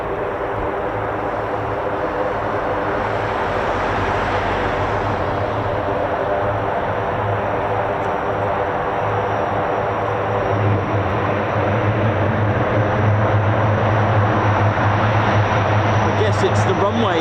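A propeller aircraft runs on the runway at RAF Mildenhall, its engines giving a steady, loud drone with a low hum that holds throughout and swells slightly toward the end.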